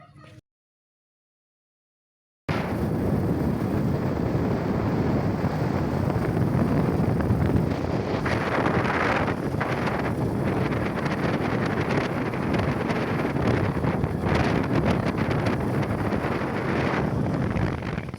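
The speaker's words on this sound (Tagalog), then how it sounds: "sobrang mahangin" After a brief silence, strong wind buffets the microphone in a loud, continuous roar that gusts and surges without letup.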